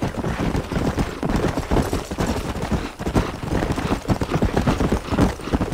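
Horse hooves clip-clop steadily in Red Dead Redemption during a horse race, a dense, fast run of hoofbeats held at a constant loud level for several seconds.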